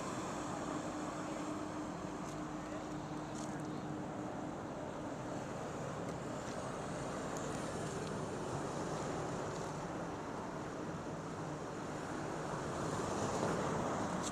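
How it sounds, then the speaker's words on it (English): Waves surge and crash in the Duluth ship canal as a towering ship comes through, a steady broad wash of surf mixed with wind buffeting, rising slightly near the end, with no voices. "Look at those waves."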